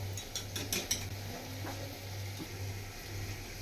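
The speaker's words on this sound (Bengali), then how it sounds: "তেলটা কিন্তু এবার নিজের মতো করে মেখে নেব।" Oil being worked into food by hand, soft squelching and stirring sounds close by, alone with a steady low hum in the background.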